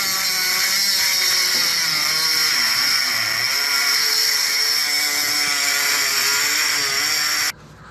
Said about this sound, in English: I'm going to take my Dremel and start to make my cut